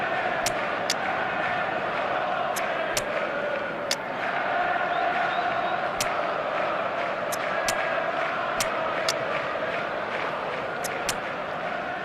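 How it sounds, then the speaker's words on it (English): Steady football stadium crowd roar in eFootball 2026 during a ranked match, a continuous dense murmur with brief sharp clicks or claps scattered across it, and a voice commentating over the top. "Now the crowd are demanding that they just finish this off"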